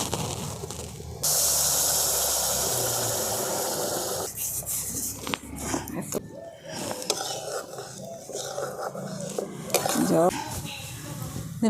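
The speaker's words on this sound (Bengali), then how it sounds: "কড়াটা দিয়ে দিচ্ছি এক বাটি মাপের খেজুরের গুড়" Date palm jaggery dropping into a pan on a rural clay stove, with a loud sustained hiss and sizzle followed by scraping and clattering of utensils against the pan.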